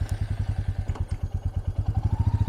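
A 2022 Royal Enfield Meteor 350 single-cylinder motorcycle idles close by with a steady, loud thumping rhythm and slight clatter as it is shifted into first gear.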